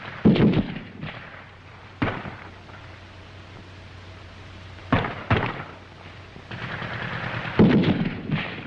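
Gunfire rings out in a WW2 German squad attack on a position, with a loud burst at the start and sharp separate shots at intervals, clustered reports near the end, and a low rumble between.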